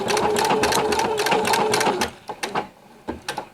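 A sewing machine stitching appliqué along a fabric edge, fast rapid rhythmic needle clatter for two seconds, then slower separate bursts of stitching with brief pauses, close and clear.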